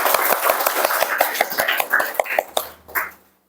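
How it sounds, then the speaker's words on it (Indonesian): Hands clap together in a classroom to applaud a student: a quick, fairly steady run of sharp claps that thins out and fades after about three seconds. "kita beri tepuk tangan dulu untuk Zeni."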